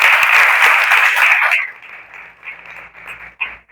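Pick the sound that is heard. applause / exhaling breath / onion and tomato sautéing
applause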